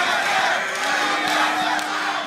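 A large crowd at a League of Legends esports arena match between Cloud9 and Team Solo Mid cheers and chants in a loud, sustained roar, filling the space with overlapping voices and no clear words.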